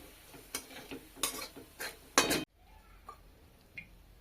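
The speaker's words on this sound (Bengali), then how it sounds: "আমি একটা ছাঁকনার সাহায্যে তেল ঝরিয়ে তুলে নিচ্ছি।" Fried onions for biryani being lifted out of hot oil with a strainer: a few close metallic scrapes and clinks with light sizzling, then near quiet with one faint knock.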